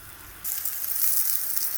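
Tree okra, the pods of the fire bush, hit hot oil and sauté with a sudden loud steady sizzle that starts partway through and keeps crackling close by.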